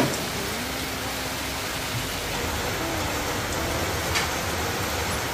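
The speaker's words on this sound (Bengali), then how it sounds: "রথের দিনে প্রচণ্ড বৃষ্টি শুরু হয়ে গেছে" Heavy rain pours steadily outdoors on the day of the Ratha Yatra festival, a dense unbroken hiss at constant loudness throughout with no voices.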